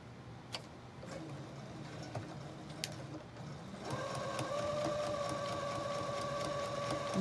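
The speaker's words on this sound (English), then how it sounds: "I'm going to head back over here to the sewing machine and run that sewing line down" A sewing machine stitches a line along a zippered fabric pouch, starting after a few quiet seconds of faint ticks and then running in a steady, close mechanical whir to the end.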